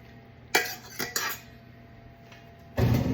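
A fork stands in for a whisk, clinking against the side of a pot in a few sharp, separate taps, then a quick closer scrape of mixing, nearby and with no voices.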